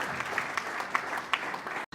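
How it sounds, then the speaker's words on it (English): Brief audience applause at a Nigerian maritime dedication event, a short burst of clapping with a voice faintly beneath it, cut off abruptly at the end. "Another round of applause for him."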